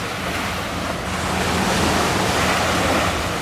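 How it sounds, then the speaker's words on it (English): Sea waves wash steadily onto a beach at close range, a continuous broad rushing surf with some wind noise over the microphone, no voices. "Sound of the sea as a lullaby."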